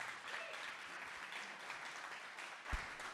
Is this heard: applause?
yes